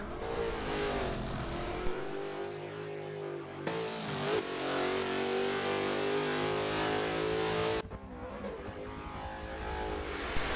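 The V8 of a Chevrolet Corvette C4 in the Forza racing game revs hard and holds a steady, loud, high-pitched drone, with abrupt cuts at the shifts and no talking.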